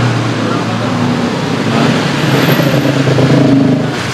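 A car used by an es dawet ayu vendor from Banjarnegara, parked on a street in Aceh, runs with a steady engine rumble, swelling slightly toward the end, with a voice talking over it.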